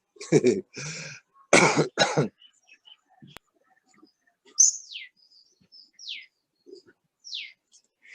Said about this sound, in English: It gets me coughing.